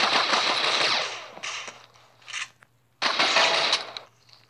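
Gunfire in the Critical Ops mobile shooter, two loud sustained bursts of rapid automatic fire close up, split by short single shots and a brief pause; no talking.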